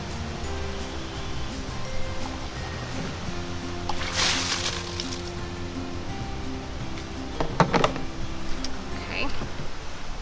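Water sloshes and drips as a tray of grown microgreens with long roots is lifted out of its water bath, with a louder splashing burst midway and more trickling toward the end over a steady background hum.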